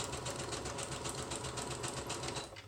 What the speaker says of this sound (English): we're going to sew from the bottom all the way up the side of the pocket